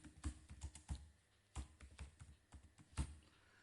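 Typing on a computer keyboard, irregular bursts of close, crisp key taps with short pauses between groups, quiet and without speech.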